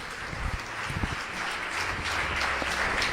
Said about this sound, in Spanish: Vamos un aplauso a ellos de bienvenida